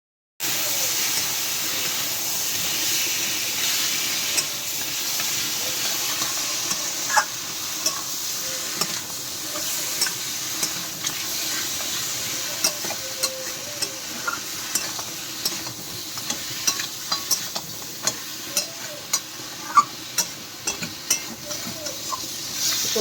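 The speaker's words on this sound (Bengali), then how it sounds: "একটু জিরের গুঁড়ো, ধনের গুঁড়ো, আর একটু হলুদ দিয়ে এবার একটু কষিয়ে নেবো ভালো।" Crab sautéing in a pan with cumin powder, coriander powder and turmeric, a steady close sizzle and hiss under repeated stirring scrapes and light spoon taps that grow busier toward the end.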